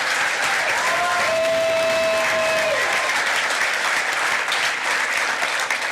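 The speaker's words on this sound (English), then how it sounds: "Please also give a round of applause to the diamonds of my heart, my daughters Gabriella and Sophia." Sustained applause from an election-night crowd at a Virginia attorney general's concession, thick continuous clapping with a faint tonal whine passing briefly through it.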